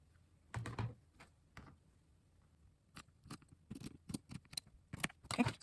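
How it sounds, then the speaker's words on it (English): Scissors cut through fabric for a face mask in a quiet room, making soft, close crunching snips: an early cluster, a pause, then a quicker run of snips toward the end, with no talking. "now you're gonna cut this part here"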